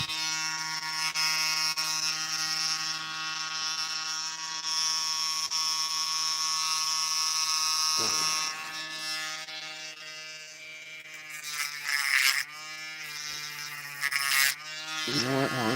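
A rotary tool grinds down a sharp spool pin from a Sargent lock with a fresh white grinding tip, giving a steady high-pitched buzzing whine. The pitch dips briefly several times as the tip bears on the metal.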